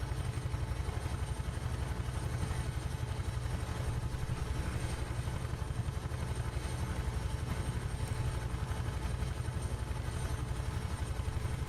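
A Huey helicopter in Microsoft Flight Simulator 2020 flying from Hue to Hanoi, its engine droning steadily with a fast, even rotor chop that runs throughout, fairly quiet and uninterrupted.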